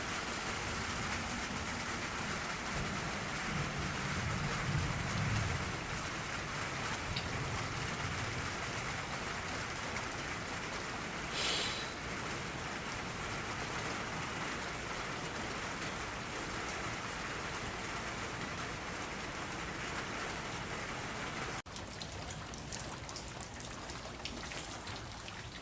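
Heavy summer rain pours down over a completely flooded backyard, a dense, steady hiss of drops hitting water and surfaces that stays loud and unbroken throughout, with one brief knock near the middle and no voices.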